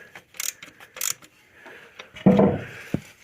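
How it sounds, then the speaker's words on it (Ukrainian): A small ratchet wrench works the 13 mm starter bolts on an Opel Vectra B, giving a few short bursts of close metallic clicking separated by quiet pauses and a duller clunk near the end. "маленькою тріщоткою набагато зручніше тут працювати"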